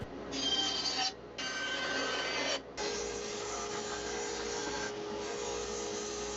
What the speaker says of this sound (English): refine it over at the belt sander.